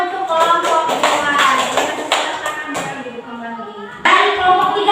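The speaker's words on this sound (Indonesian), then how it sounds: "Tepuk tangan untuk kelompok 2." Students in a classroom clap for group 2, sharp individual claps coming in an uneven patter, close and fairly loud, with a brief lull before a final burst.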